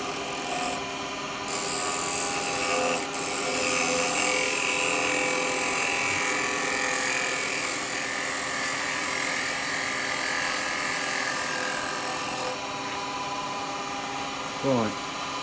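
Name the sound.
woodturning gouge cutting live edge alder on a lathe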